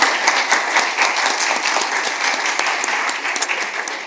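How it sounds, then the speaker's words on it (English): An audience applauds after a presentation at an event, a loud dense crowd clapping that holds steady throughout, close and full, with no speech over it. "that's a big applause for your presentation."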